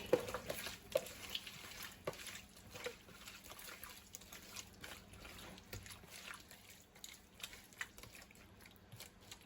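Seafood tossed with Old Bay seasoning and chives is mixed in a bowl. Soft wet stirring, scraping and clicks repeat at an uneven pace, close by and quiet.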